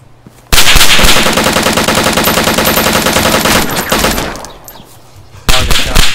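Automatic rifle fire from DayZ Standalone gameplay, set in the town of Kamyshovo: a loud, dense burst of rapid shots rattles for about four seconds, dies down briefly, then another burst erupts near the end, with no talking.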